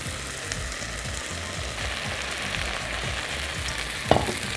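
Orzo pasta with spinach, onion and coriander stirred in a hot pot, giving a steady close sizzle with soft scraping of a utensil throughout and a brief clatter near the end.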